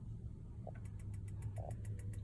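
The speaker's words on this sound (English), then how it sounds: "If you want to fire it up on gas, you push and hold the gas flame, and you should hear it tick tick ticking." A caravan gas fridge igniter clicks in a steady, regular run of sharp ticks, about eight in quick succession, over a low constant hum, with no voices.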